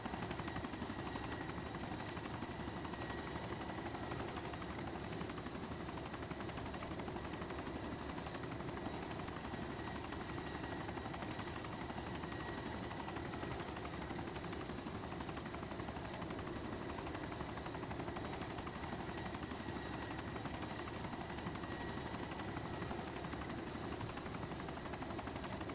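An enemy helicopter in the Arma 2 DayZ mod flies steadily overhead, its rotor and engine forming a continuous, fairly faint drone that lasts throughout.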